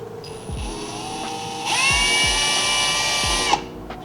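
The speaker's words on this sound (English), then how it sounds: "when you're drilling the holes, try not to go too deep or else you're gonna drill right through the skirt" A power drill bores holes into a plastic OEM side skirt on a MK7/7.5 GTI, its high whine spinning up, rising to a louder sustained burst, then stopping, with light knocks between.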